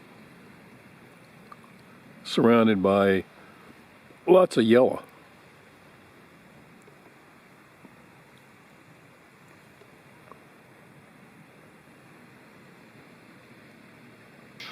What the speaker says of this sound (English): All I hear is the murmuring of a creek nearby